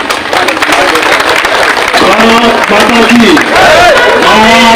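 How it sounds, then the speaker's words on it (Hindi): Loud clapping from a crowd at a rural gathering welcoming a member of parliament, a dense patter running throughout with amplified voices and chanting over it. "एक बार जोरदार तालियों से"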